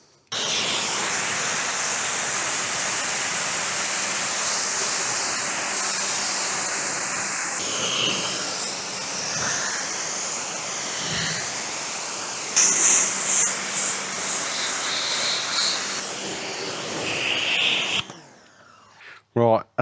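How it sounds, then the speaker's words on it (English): A pressure washer jet-washes a car after a snow foam wash over a ceramic coating. The spray gives a loud steady hiss that changes tone as the jet moves, then stops near the end. "let's finish jet washing this properly and then see the final results."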